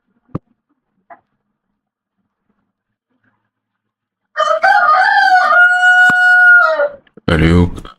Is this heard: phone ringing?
no